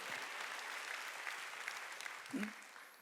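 A Sunday worship congregation applauds steadily, a soft, even wash of many hands clapping at moderate distance, with a brief low voice near the end.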